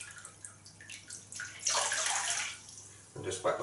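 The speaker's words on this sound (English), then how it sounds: "just wet my face with it to start with" Water splashes and drips as a face is wetted with a hot towel in a bathroom before a shave, a short close burst of wet sloshing that swells, fades and returns.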